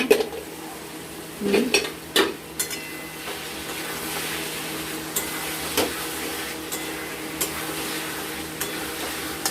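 A lid comes off a cooking pan with a couple of close metallic clanks. A pan of fish with water keeps up a steady sizzle underneath, with light scraping and clinks afterward.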